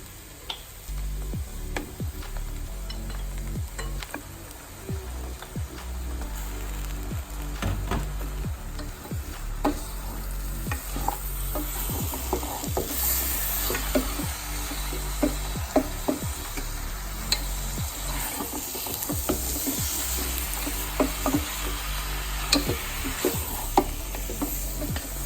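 Beef sizzling in a hot pan for beef curry, steady frying hiss throughout with frequent scraping and clinking as a spoon stirs the meat, close and continuous, no voices.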